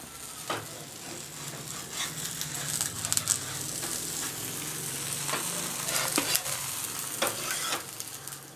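A multigrain pulse dosa fries in plenty of oil on a pan, giving a continuous close sizzle and crackle throughout, broken by occasional light scraping taps.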